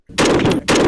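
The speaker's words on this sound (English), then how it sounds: "gunfire" A short, loud burst of rapid video game gunfire, two quick volleys separated by a brief gap, punchy and close.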